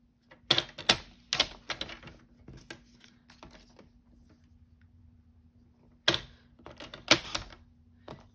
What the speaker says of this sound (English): And then I'll just take my paper trimmer.